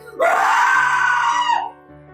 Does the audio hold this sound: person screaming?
yes